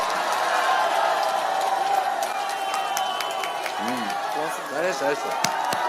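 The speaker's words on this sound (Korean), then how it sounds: "박수로 환영해 주십시오." A crowd at a political campaign rally bursts into sustained applause and cheering, a dense roar of clapping that holds steady throughout as people shout over it and a voice speaks amid the noise.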